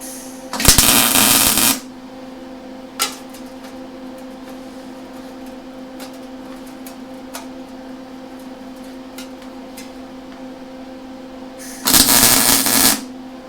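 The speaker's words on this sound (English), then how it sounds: "I'm going to start with just laying a couple tacks on this and getting it to where it's going to hold on its own, and then we'll just lay down a weld" Lincoln Electric Handy MIG welder tack welding 16 gauge steel: two loud, crackling bursts of arc, one near the start and one near the end, with a steady electrical hum and faint clicks in between.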